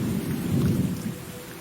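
Thunder rumbles low and heavy under steady pouring rain during a storm in the northern Serengeti, a dense continuous roar with no voices.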